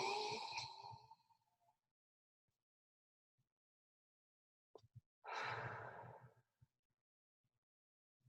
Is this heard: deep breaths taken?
yes